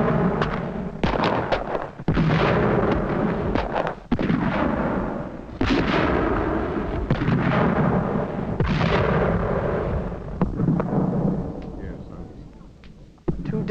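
Cannon fire during a fort siege re-enactment at Fort Stanwix: repeated heavy booms roll out over a loud, continuous rumbling din, with voices mixed in.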